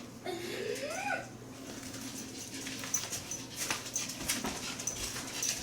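A dog gives a few faint, high whimpers early on, followed by quiet shuffling and light tapping sounds in a low-level room.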